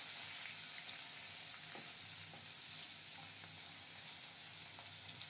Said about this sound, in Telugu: సో దీన్ని కూడా బాగా ఫ్రై చేయండి.